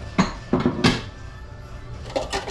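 Dishes clatter in a kitchen sink during a home washing-up session, with three sharp knocks of plates and pots close by in the first second and a softer pair of clinks near the end, over a low steady hum.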